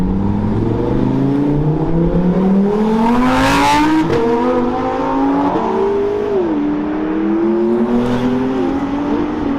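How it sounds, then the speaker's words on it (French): Cars at a charity rally in Lyon accelerate past one after another, engines revving and rising in pitch with a whooshing sweep as each goes by, loud and continuous. "C'est une dinguerie le nombre de voitures qui passent. Ça arrête pas, ils accélèrent tous."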